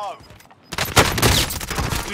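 Rapid bursts of close gunfire in Call of Duty Modern Warfare on Rebirth Island crackle in dense volleys after a brief quiet start, with players talking over the shots.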